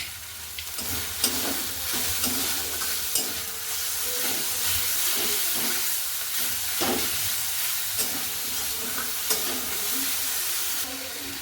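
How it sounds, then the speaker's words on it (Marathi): A vegetable sautés in hot oil with a constant sizzle and hiss, broken by repeated scraping stirs of a spoon against the pan, no voices. "परतून घेतली आहे भाजी आता मस्त आपण तेलावरती परतून"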